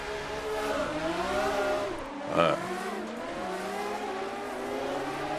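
Historic race car in the Assetto Corsa racing game recreating the Monaco Historique, engine revving and shifting through gears with a steady loud drone, a brief squeal-like burst mid-run.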